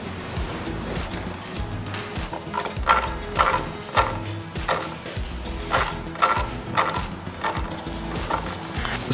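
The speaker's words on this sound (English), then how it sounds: "It sounds like the brake unit itself is grinding on the inside of the wheel against the metal." An EMOVE Cruiser electric scooter's brake unit grinds against the inside of the wheel just after brake adjustment, a rough repeating scrape with rhythmic pulses as the wheel turns, loud and close with no talking.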